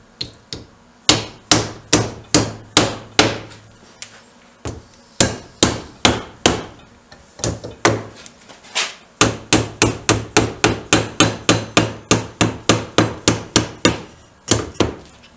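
A hammer repeatedly striking a curved metal part of a Triumph 500 Otter motorcycle, sharp loud blows in quick rhythmic bursts with short pauses between runs.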